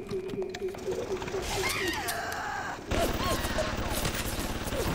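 Automatic turret in Bioshock VR firing a rapid stream of shots, dense crackling bursts under a player's shouting and game effects, louder in the second half.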